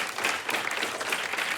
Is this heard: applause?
yes